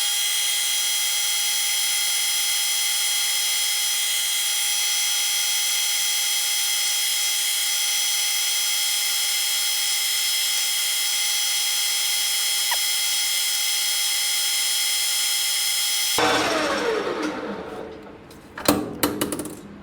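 Tool post grinder mounted on a lathe, set to 1,000, runs as a steady high-pitched whine with layered tonal hum, close and loud, then cuts off near the end into brief clattering shop noise.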